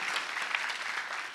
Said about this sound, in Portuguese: Você pode dar um aplauso bem forte a Deus?